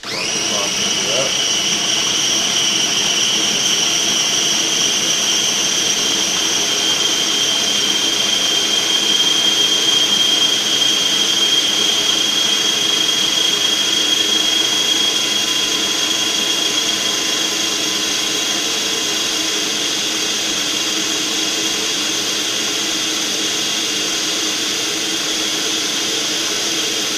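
A grinder whirs steadily for about half a minute as it grinds homemade washing powder ingredients into fine powder, a loud, even, high-pitched motor drone close by with no pauses.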